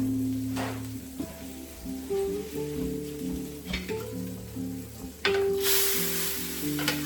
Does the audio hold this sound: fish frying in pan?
yes